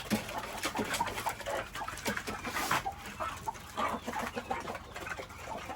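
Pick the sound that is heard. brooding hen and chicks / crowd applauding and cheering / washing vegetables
brooding hen and chicks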